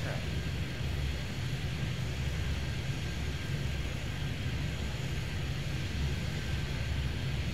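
Airplanes taxi and fly around an airport in Airport Madness 3D, giving a steady low engine rumble and jet hum that stays constant and moderately faint with no distinct pauses.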